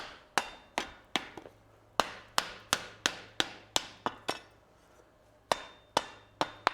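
Hammer forging metal on an anvil: sharp, ringing strikes in a steady rhythm, mostly single blows with occasional quick doubles and a brief pause midway, close and distinct against a quiet background.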